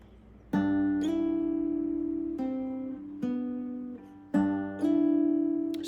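An acoustic guitar plays the intricate part of the Outer Wilds main theme, a handful of plucked notes and chords that ring and sustain with slides between them, close and alone.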